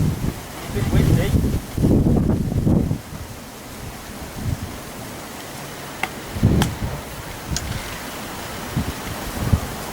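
Gusty winter wind at a carp fishery, buffeting the microphone in loud rushing bursts that swell and fade, with quieter stretches and brief knocks between gusts.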